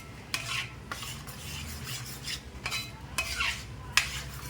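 Kadala payasam with jaggery powder being stirred in a pan, a spoon scraping and swishing through the thick mixture in slow repeated strokes, close and fairly quiet, with no talk.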